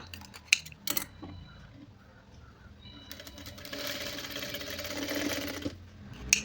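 Sewing machine stitching along the neckline of a back-open blouse in fabric that is hard to work, with a steady run of needle chatter rising for a few seconds after some light handling clicks.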